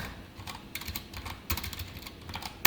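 Code being typed on a computer keyboard, a quick run of soft, close key clicks in uneven bursts with a sharper tap at the end, with no talking.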